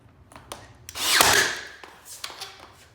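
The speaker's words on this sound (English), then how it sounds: "And just nail it in" Nail gun driving a nail through baseboard into vinyl plank flooring, a close single burst of hard hiss and thump with a few light taps and handling clicks around it, no talk.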